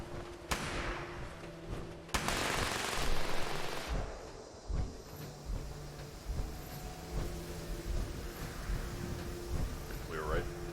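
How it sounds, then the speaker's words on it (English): Gunfire in Fallout 76 during a mission against feral ghouls, with sharp broadband bursts near the start and a longer loud volley around two to four seconds, followed by quieter game ambience while people talk over it. "Red, go ahead and fire first shot."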